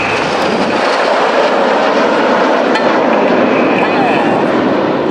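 Red Arrows display jets passing overhead at the Malta Airshow 2013, two of them flying inverted, a loud continuous roaring rush of engine noise that fills the whole stretch, with a voice speaking under it.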